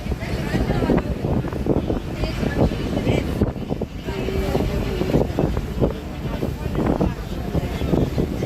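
A launch boat motors steadily along while wind buffets the microphone at its bow in a constant rumbling roar, with faint voices occasionally beneath the noise.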